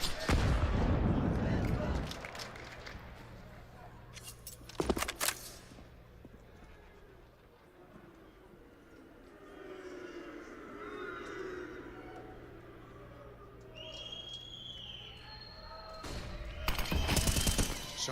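Gunfire from a Counter-Strike: Global Offensive match at an IEM Katowice 2022 grand final between G2 Esports and FaZe Clan, sharp bursts near the start, middle and end over a low game hum, with commentary talk running beneath.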